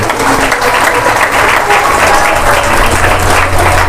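Sustained loud applause from a satsang crowd, many hands clapping in a dense, even roar that holds without a break, with a voice faintly mixed in.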